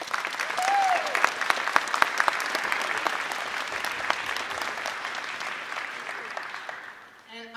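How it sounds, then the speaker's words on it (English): Sustained applause from an audience at a middle school band Halloween concert fills the room, steady clapping that tapers off near the end, with a few voices mixed in. "So please give them a round of applause."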